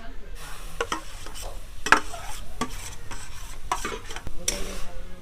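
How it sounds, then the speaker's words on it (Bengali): Grated apple and sugar stirred in a pan (kadai) for an eggless apple cake, with a spoon scraping in repeated strokes over a soft, steady sizzle, close and moderately loud, without any voice. "আপেল আর চিনিটাকে একসাথে দিয়ে নাড়াচাড়া করতে হবে"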